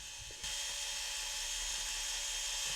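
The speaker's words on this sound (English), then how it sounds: "Be sure to use a low RPM on your drill and to move the pad around while polishing to avoid a buildup of heat" A drill spins a buffing pad with brown compound against the inside of a plastic Dyson vacuum bin, giving a steady high-pitched whine that begins abruptly and holds evenly for the length of the clip, close and moderately quiet.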